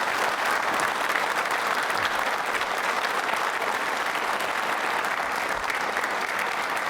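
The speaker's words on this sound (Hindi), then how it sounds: "जोरदार तालियां बजाइए एक बार" An audience of trainee state civil service officers claps together at a training institute quiz event, a dense, sustained round of applause that holds steady throughout.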